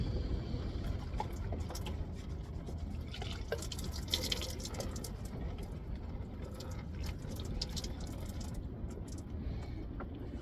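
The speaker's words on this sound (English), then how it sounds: "it's time for a good shower" Water from a shower runs continuously nearby, with splashing and dripping textures over a steady low rush, heated tank water in a camper while heavy rain pours outside.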